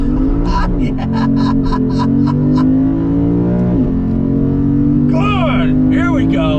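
A 2022 Lexus IS 500 sport sedan at full throttle, its engine note climbing steadily in a loud, sustained drone heard from inside the cabin, with tire or wind hiss riding on top.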